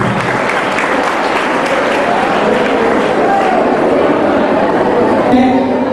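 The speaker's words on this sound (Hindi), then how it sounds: "कृपया उनका तालियों से स्वागत कीजिए" An audience at a student-organised martyr day commemoration applauds to welcome a guest on stage, a thick continuous wash of clapping that stays loud and even, with murmuring voices mixed in.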